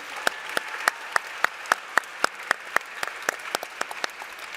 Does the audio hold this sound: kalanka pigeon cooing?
no